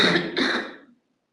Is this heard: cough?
yes